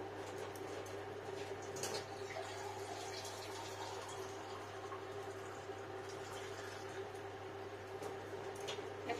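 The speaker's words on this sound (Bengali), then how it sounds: "এবার এটা ফ্রেশ জল দিয়ে নেব" Fresh water runs and splashes steadily into a vessel of mung dal being washed, a soft, even flow with small splashes heard close by throughout.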